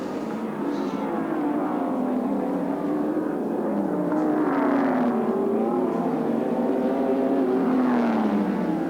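Touring cars race past at Sandown Park during the 1986 Castrol 500, a steady wash of engine roar whose pitch rises and falls over several seconds as cars pass at middle distance, with no talk.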